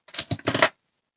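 Paper card ends are cut in a quick burst of three or four crisp, close snipping clicks lasting under a second, then silence.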